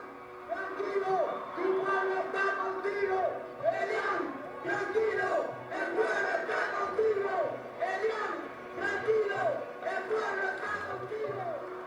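A crowd of protesters shouts and chants in rhythmic unison, many voices rising and falling together in loud repeated bursts.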